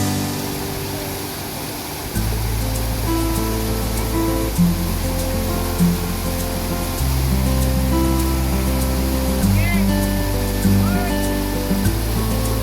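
Stream water rushing steadily where people are bathing, a loud continuous wash with a low rumble and occasional splashes, close and unbroken throughout.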